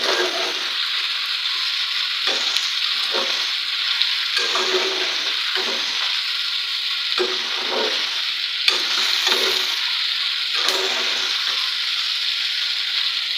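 Steady sizzling of okra frying in a pan, with repeated scraping and stirring strokes of a spoon throughout, close and fairly loud, no talking.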